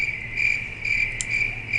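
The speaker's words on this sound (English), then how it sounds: "at least the crickets are there" Crickets chirp outdoors on an Indiana evening in a steady, high, pulsing trill that stays close and fairly loud throughout, with no voices.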